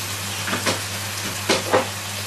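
Chopped onion drops into a pan of pork neck frying over high heat, a steady close sizzle with a couple of brief louder hissing bursts as the pieces land.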